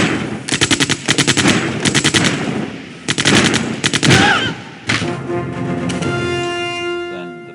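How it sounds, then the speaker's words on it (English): Heavy bursts of automatic fire from the video game Civilization 4 with the Realism Invictus mod, several loud rapid volleys in quick succession, followed by a sharp impact and a ringing tonal game sound trailing off. "Then we just bombard them units with artillery."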